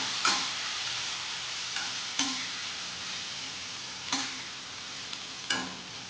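Tindora (ivy gourd) fries in oil with a steady close sizzle, and a spoon scrapes and stirs through it at a few separate moments.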